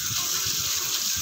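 Running tap water pours steadily over moringa leaves being washed at a market, a close, continuous splashing gush.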